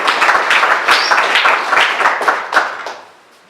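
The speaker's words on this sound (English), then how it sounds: "Please, a round of applause for our curator." Guests at an art exhibition event applaud the curator with a short round of clapping. Individual claps are close and distinct over a loud, brisk patter, fading out after about three seconds.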